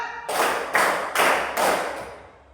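Students in a classroom clap in unison four times, steady and evenly spaced, close and fairly loud, with a faint fifth tap trailing off at the end and no voices.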